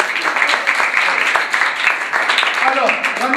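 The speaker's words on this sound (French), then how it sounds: "Alors, applaudissez." A classroom of students clapping together in a French lesson, a busy patter of many hands mixed with voices and chatter throughout.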